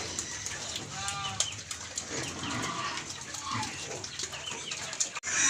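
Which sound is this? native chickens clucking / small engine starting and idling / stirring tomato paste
native chickens clucking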